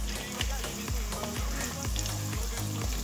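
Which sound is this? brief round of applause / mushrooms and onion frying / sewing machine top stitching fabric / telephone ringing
mushrooms and onion frying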